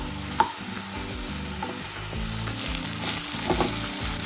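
Spices fry in a pan with onion, ginger and garlic for a Bengali chicken bahari, giving a steady sizzle that swells a little toward the end, with an early clink and light stirring scrapes.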